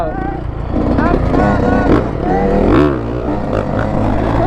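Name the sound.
small dirt bike (knee knocker) riding and revving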